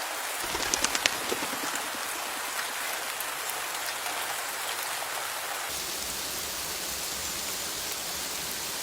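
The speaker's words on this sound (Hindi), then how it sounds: "बारिश का मौसम था, जोरों से बारिश हो रही थी।" Heavy rain pours steadily in a dense, even hiss of drops striking surfaces, loud and continuous throughout with no voices.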